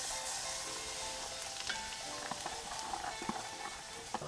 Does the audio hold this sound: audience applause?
no